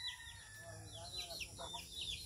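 Chickens on a Filipino backyard farm, with newly hatched chicks nearby, cluck in quick, fairly faint bursts over steady low background noise and a constant high hum.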